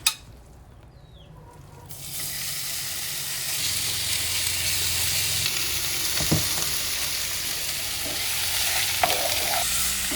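Chicken pieces hit hot mustard oil for a pasta dish, bursting into a loud, steady sizzle that swells after a quiet start and keeps hissing continuously, with a few stirring clicks near the end.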